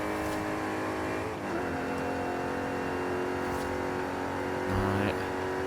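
Race car engines in Forza Horizon 5, including a GT car, drone steadily with sustained engine tones, a brief gear change early on and a louder surge near the end, with no talking.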